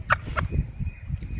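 Aseel fowl gives a few short, throaty gobbling calls in quick succession, close and fairly loud, with no talk.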